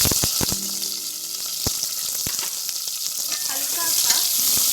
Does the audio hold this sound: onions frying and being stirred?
yes